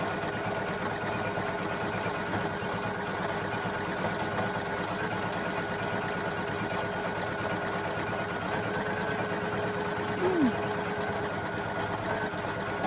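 A Poolin EOC06 embroidery machine stitches a design into a cheap dollar-store towel, its needle running in a fast, steady mechanical chatter throughout, with a brief whir near the end as the automatic thread cutter trims a jump stitch.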